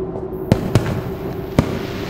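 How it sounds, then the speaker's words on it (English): Fireworks in the video game Dark Deception burst in three sharp pops over a low steady ambient hum. "But I love the fireworks."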